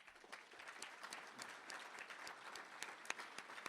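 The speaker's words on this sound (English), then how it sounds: "Let's give all of them a round of applause." A luncheon crowd at an annual awards event applauds local government officials, steady moderate clapping with scattered sharper individual claps.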